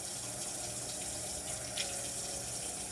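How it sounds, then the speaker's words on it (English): Hot water pours steadily from a kitchen tap into a sink, a continuous close hiss and splash that holds even throughout with no voices. "Trying to catch me a little hot dishwater."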